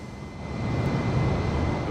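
Airbus airliner engines on approach into a regional airport in Microsoft Flight Simulator, a steady broadband jet roar with low rumble that grows slightly louder, continuous and without voices.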